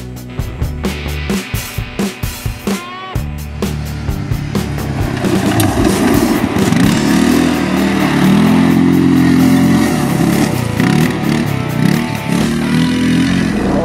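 A GOES Cobalt 550 Max quad bike engine starts with rapid popping pulses, then settles into a steady loud running drone with slight revving, close by throughout.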